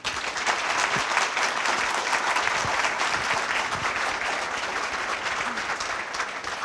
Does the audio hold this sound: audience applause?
yes